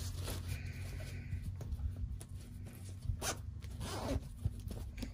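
A zipper rasps open in several short pulls, close and fairly quiet, with soft handling noises between strokes, while sewing a lined zipper pouch.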